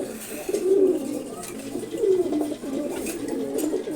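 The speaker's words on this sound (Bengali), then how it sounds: "গিরিবাস কবুতরগুলো দেখেন এখানে সবগুলোই নর কবুতর" Several male Giribaz pigeons coo in repeated rolling, throaty calls, fairly close and continuous over a low background murmur.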